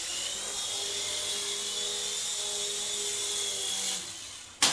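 A Happy Cow 777-575 Eidolon two-channel infrared RC helicopter with its rotor spinning, a steady high-pitched motor whine and whirr that holds level throughout, then cuts off with a brief louder bump at the end.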